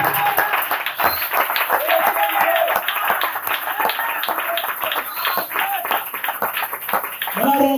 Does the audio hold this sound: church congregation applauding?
yes